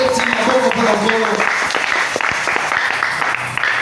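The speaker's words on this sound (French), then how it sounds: "Acclamons fortement pour le Seigneur." A congregation applauding for the Lord at a French-language church service, with steady dense clapping and a crowd's voices mixed in, loud and close.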